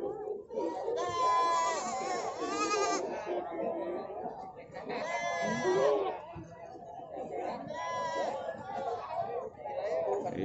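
Goats bleat repeatedly at the Kaligesing goat market in Purworejo, several loud wavering cries in bursts while people chatter nearby in a busy crowd.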